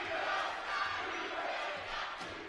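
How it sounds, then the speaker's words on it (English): A high school basketball game crowd cheering and yelling in a gym, a dense, steady wash of many voices roaring throughout at moderate loudness. "The crowd starting to get into it here as well."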